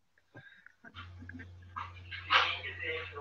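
A dog gives a few soft, distant yips and barks indoors, faint and scattered over a low steady hum, with a person talking quietly nearby.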